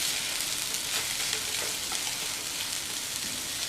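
Raw banana podimas frying in a pan crackles with a dense, even sizzle while it is stirred and turned, a close, continuous hiss without speech.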